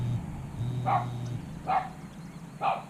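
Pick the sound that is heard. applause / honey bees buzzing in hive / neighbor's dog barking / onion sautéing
neighbor's dog barking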